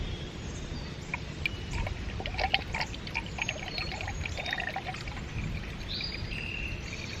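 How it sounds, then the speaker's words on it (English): Water gurgling and splashing out of a siphon tube drawn from a small creek, a steady low rush with bubbly pops and faint birdsong behind it throughout. "I hear it gurgling out now."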